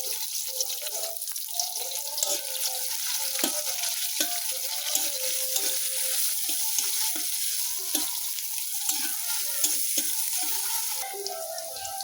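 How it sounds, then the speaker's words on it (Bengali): Onions frying lightly with cumin in a pan, a continuous close sizzle and crackle with scattered stirring scrapes throughout. "পেঁয়াজ হালকা করে ভেজে নিছি"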